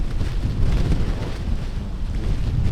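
Wind roars and buffets the microphone without a break on an open disc golf course during a tournament round, loud and close. No one talks over it.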